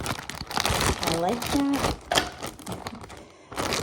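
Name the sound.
Ziploc bag crinkling as air is pressed out over cherries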